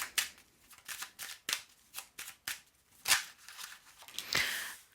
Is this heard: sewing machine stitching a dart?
no